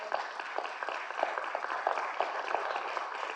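Warm, sustained applause from a gathered audience, a thick wash of many hands clapping steadily at moderate volume with individual claps poking through, no speech over it.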